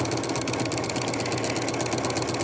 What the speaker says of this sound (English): Lift the presser foot, rotate, and sew the long seam connecting the bottom.